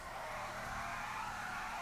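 A heavy Stockade armored truck's tires squeal in GTA 5, a sustained, fairly loud skidding hiss over a low engine rumble, with no voices.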